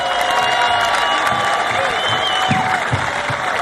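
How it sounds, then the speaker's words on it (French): Audience applauding at a bodybuilding and fitness event in Canada, a loud continuous roar of clapping and crowd noise with scattered whoops, steady throughout. "applaudissez, s'il vous plaît."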